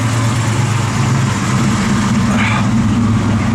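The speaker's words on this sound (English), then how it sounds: "Give it a little rev," A 1969 Chevrolet Camaro RS/SS engine running with a steady, loud, low rumble and a slight lift in revs partway through, close by and continuous.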